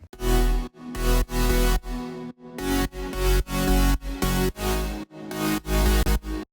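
Main and support synth basses made in the Silent synthesizer layered together for a track, playing a pulsing pattern of thick, loud notes with brief choppy gaps between them, no voices.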